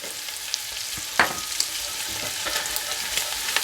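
Crumbled sausage cooking with three tablespoons of flour in a pan, a constant close sizzle broken by occasional utensil scrapes and one louder clack.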